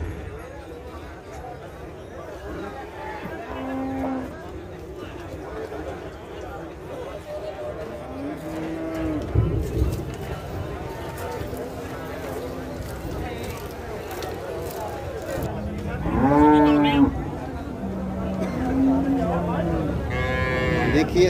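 Buffaloes moo repeatedly at the Khanna cattle market in Punjab, with several long, drawn-out calls at close range rising over the murmur of people talking and general market bustle.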